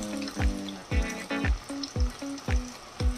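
Food frying in very hot cooking oil, with sharp popping bursts that recur about every half second over a steady hiss, close and fairly loud.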